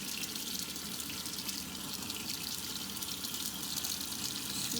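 Water splashes steadily and softly while handmade soap is lathered under running water, a continuous close hiss and patter without pauses.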